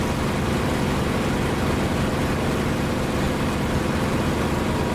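An aircraft engine in the DCS flight simulator drones as a loud, steady broadband roar from inside the closed canopy, unchanging and with no voices.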